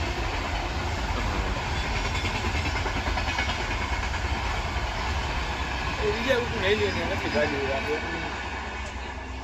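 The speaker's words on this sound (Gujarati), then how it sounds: "જો બસમાં બેસી ગયા ટ્રેન નીકળી" A train rumbles along steadily with rolling wheel noise, while people talk nearby over the continuous din.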